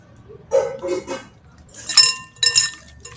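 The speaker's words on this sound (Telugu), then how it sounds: "అల్లం వెల్లిగడ్డ పేస్ట్ వేసి కలపాలి" Ginger garlic paste is stirred into chicken in a pot, producing a few soft, close clinks and scrapes of a spoon against the metal, with a short pause between the bursts.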